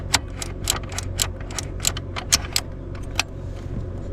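A key clicks repeatedly in a van's switch, producing a close series of sharp metallic ticks and jingles at an uneven rhythm over a low steady hum, with no voices.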